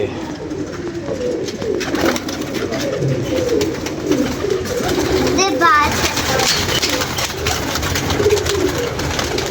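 A pigeon coos on a rooftop amid steady background noise, with a soft rolling coo rising briefly in the middle while people talk nearby.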